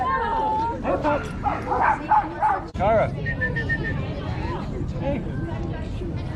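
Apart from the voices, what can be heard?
small dog barking and yipping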